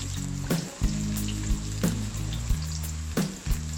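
Minced garlic frying in a pan until golden, a steady close sizzle broken by a few sharp scrapes of stirring, with no voices.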